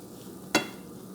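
Mushrooms, green peppers and onions fry in a pan with a low, constant sizzle. A single quick clatter of stirring cuts through midway.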